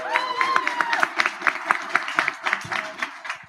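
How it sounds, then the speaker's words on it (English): Applause at an awards event for a student campus challenge: a small crowd claps in a fairly sparse, uneven patter, close and moderately loud, with a brief whistle or tone near the start. "Round of applause for utensils to go."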